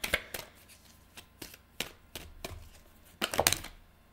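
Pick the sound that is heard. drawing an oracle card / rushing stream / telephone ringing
drawing an oracle card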